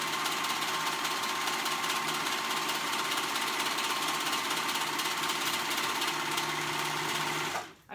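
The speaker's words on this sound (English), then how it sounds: "So now I'm gonna sew that. I'm using my serger" A serger sewing dress fabric runs continuously at high speed, a fast, even mechanical whir with rapid stitching rattle, stopping abruptly at the end.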